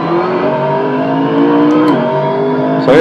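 McLaren GT3 race car engine in Assetto Corsa on a lap of Brands Hatch, a loud close-up sustained rasp rising steadily in pitch, then a brief gear change near the end before the tone jumps up again.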